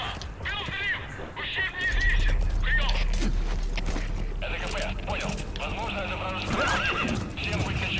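A horse in the video game Metal Gear Solid V: The Phantom Pain whinnies and neighs over clip-clopping hooves and mechanical creaks. Busy game sound fills the background throughout.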